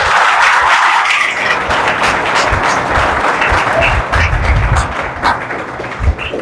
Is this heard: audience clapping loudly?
yes